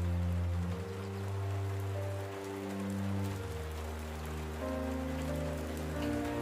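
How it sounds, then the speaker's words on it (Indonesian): Heavy rain pours down during a road trip, a dense steady hiss that fills the whole stretch over a low sustained tonal drone, loud and unbroken with no voices. "hujan turun sangat amat deras"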